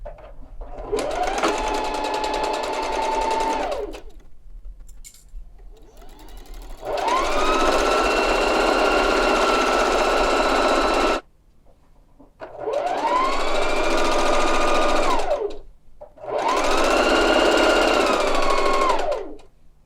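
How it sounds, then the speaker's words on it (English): A sewing machine runs a second row of stitching a quarter inch in on a jacket, passing the sleeve cuff and pockets in four long steady whirring bursts with short pauses between, close and loud. "So now I'm going to do my second row of stitching at 1/4 of an inch"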